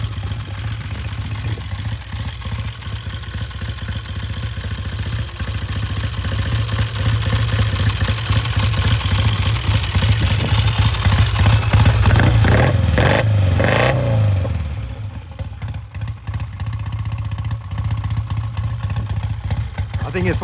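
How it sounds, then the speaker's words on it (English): A 1966 Triumph T90 350cc motorcycle engine runs close by for the whole stretch, a throbbing idle that rises into a few revs midway before settling again, with a voice talking over it. "I think it's one of the best sounding 350s around. It sounds amazing considering how low the CC is."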